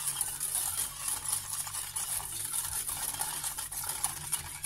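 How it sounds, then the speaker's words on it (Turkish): Ingredients with sugar being stirred in a pot for a custard-style pudding, a steady soft scraping and swishing that runs continuously and close, with no talk. "Ve bu malzemelerimi şöyle bir karıştıracağım."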